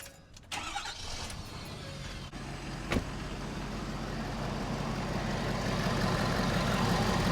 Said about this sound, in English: Let's go ahead and start the truck.